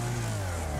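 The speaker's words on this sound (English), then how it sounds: "when you let off the throttle and you kind of hear the exhaust overrun a little bit, like that" Car engine in the Wreckfest racing game, the exhaust overrunning as the throttle lifts, a loud close growl with a steady low hum and burbling harmonics, without talk.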